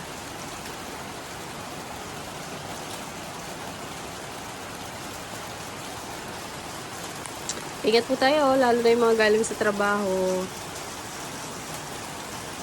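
Steady rain hisses throughout, with a person speaking briefly over it near the end.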